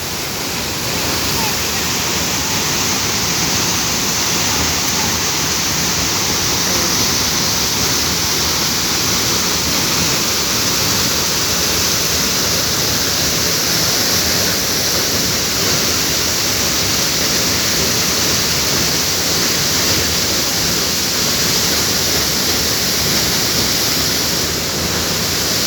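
A strong waterfall on Camiguin island, surrounded by trees and falling into shallow water, roars as a loud, steady, unbroken rush throughout.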